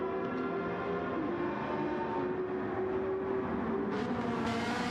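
A Ferrari 458 race car engine in Gran Turismo 7 during an endurance race at Yas Marina, holding a loud, steady high-revving drone with a rising pitch near the end.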